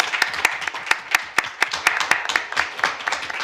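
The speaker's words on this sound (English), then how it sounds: "a quick round of applause for all of their hard work" A board meeting audience gives a short round of applause, distinct individual claps ringing out in a fairly sparse, uneven rhythm for a few seconds, close and clear with no talking over it.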